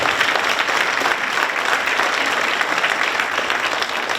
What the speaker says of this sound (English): We could clap for that.